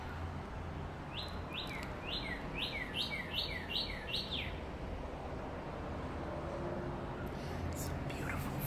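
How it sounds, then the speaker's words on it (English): Birds sing outdoors on a fine Florida day, a quick run of bright descending chirps near the start, then quieter calls over a steady background hum. "So nice to be out here and listen to the birds sing."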